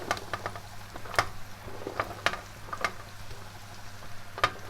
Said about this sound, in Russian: Обжариваем лук вот так вот у нас почти он, ну, такой стал прозрачным